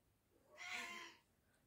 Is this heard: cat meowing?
yes